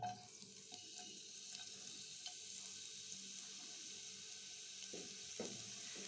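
Chopped large onion frying in mustard and soybean oil for a sweet and sour tomato dish, a steady quiet sizzle with a few soft stirring knocks near the end.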